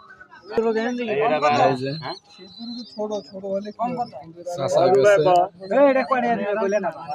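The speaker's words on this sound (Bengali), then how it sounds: "অনেক কবুতর" Many pigeons coo at a crowded pigeon market, their calls mixed with steady nearby talk from traders and customers.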